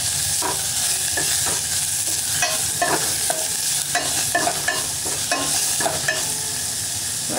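Green chillies and onions sauté in a pan for a Tamil gongura dal with sorrel leaves, a steady sizzle broken by repeated scraping stirs of a spoon against the pan.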